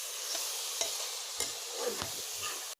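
Laskara being roasted and stirred in a wok (kerahi) for Kati Bihu: a steady dry sizzle with a few sharp scraping strokes of the spatula against the metal, close and clear before it cuts off abruptly.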